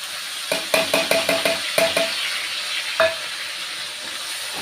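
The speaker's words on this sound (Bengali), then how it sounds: "এবারে আমি এই টমেটোর যে এই পেস্টটা করেছিলাম, এবার আমি এটাও দিয়ে দেবো।" Tomato paste going into a pan of frying tomatoes, green chilli, ginger and cumin: a run of sharp rhythmic clanks as a utensil scrapes and taps the pan, then one more knock over a low sizzle, no talk.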